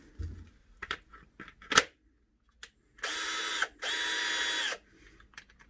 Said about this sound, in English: This is the drill.